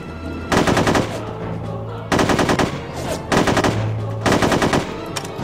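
Loud, close bursts of automatic machine-gun fire in the shooter game No One Lives Forever 2, four rapid rattling volleys separated by short pauses over a steady game background.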